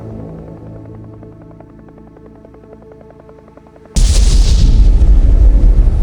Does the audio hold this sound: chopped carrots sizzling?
no